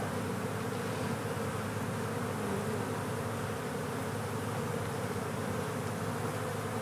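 Honey bees hum in a dense, steady drone around an opened hive where new comb is being built, the buzzing continuous and close with no talk over it.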